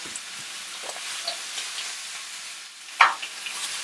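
Coffee-dusted fajita meat sears in a hot pan with a continuous sizzle and hiss, a sharp scrape or pop near the end, and no talking.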